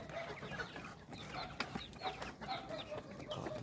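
Ducks in a farm pen make a busy chorus of soft quacks and chattering calls at a distance, faint but continuous over a low background hum.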